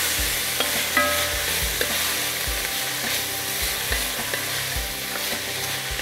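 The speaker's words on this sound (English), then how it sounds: "we want to add it in while we're sauteing our vegetables, and it's just going to really bring the flavors out. Stir that in well." Vegetables sauté in a gumbo pot with Creole seasoning while a spoon stirs them, giving a steady close sizzle with scattered scraping knocks and clinks throughout.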